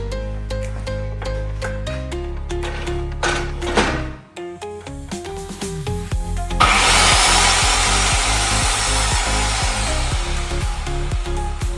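A power saw cuts wood for built-in bookshelves, with close tool handling and knocks first, then a loud steady cutting whine with rough grinding texture that continues to the end.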